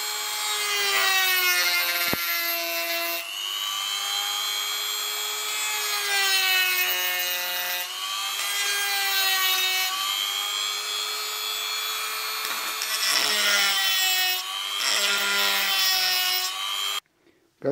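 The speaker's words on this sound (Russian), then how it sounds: "Итак, первое, на чем попробуем нашу шарошку, это дерево." A homemade rotary burr made from an old lighter grinds into wood, a high whining tool tone with harsh rasping bursts that rise and drop in pitch across several passes, loud and close, no voices.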